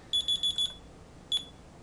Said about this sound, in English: Okay, here's the alarm.